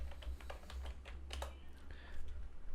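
Fast, irregular keystrokes on a computer keyboard over a low steady hum, clicking in quick bursts of separate taps through the whole stretch.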